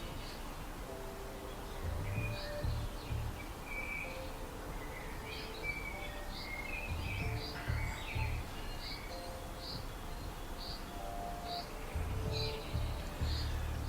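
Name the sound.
birds calling at a garden waterfall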